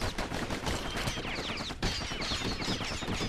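Rapid bursts of gunfire crackle in the video game Bastion as enemies shoot, dense repeated shots layered over a busy game soundtrack.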